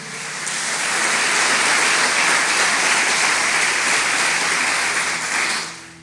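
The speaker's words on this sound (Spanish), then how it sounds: "Dale ese fuerte aplauso a Jesús." A church congregation breaks into loud, sustained applause that swells quickly, holds steady for several seconds and then tapers off, with no talk over it.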